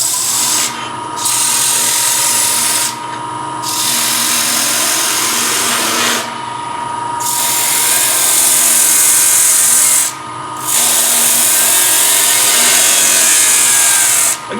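Loud, continuous power sanding on a wooden platter, a steady abrasive whine broken by a few brief pauses, close up.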